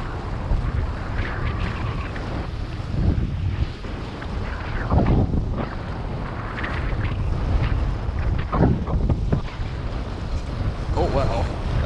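Strong coastal wind buffets the microphone while fishing at Cancun. It makes a constant loud roar with gusty surges, and faint sea and movement sounds come and go beneath it.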